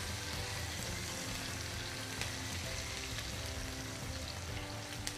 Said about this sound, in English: Once your oil is hot, go ahead and add in your onions.